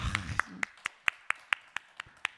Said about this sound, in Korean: 아주 너무 윤경민 집사님 박수.